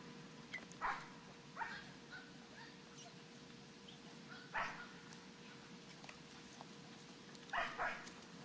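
During obedience training, a dog gives several short, faint barks and yips at irregular intervals over a steady low hum, with soft whimpering between them.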